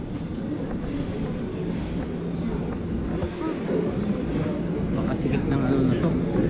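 A crowded subway train in Japan, heard from inside the car: a steady low rumble with rattling wheels and faint squeals, while passengers talk over it.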